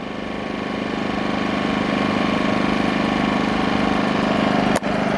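A WEN 2000 inverter generator running in eco mode gives a steady, even engine drone with a constant low hum, holding level throughout before a brief dip near the end.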